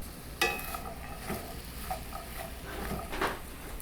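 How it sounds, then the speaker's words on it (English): Sweet potato, parsnip and onion fry in a pan with a low, continuous sizzle, soft scrapes and clinks of stirring rising briefly over it. "I'm just going to fry these up until they're all soft"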